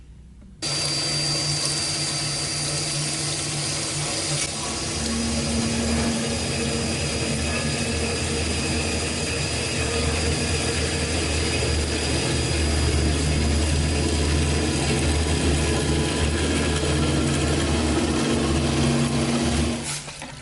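A Linmac WV-310DS double miter bandsaw slices a 45-degree miter cut, running as a loud, steady machine drone with a constant whine that holds for nearly the whole stretch before cutting off near the end.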